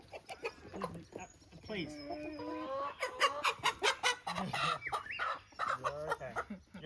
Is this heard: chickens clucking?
yes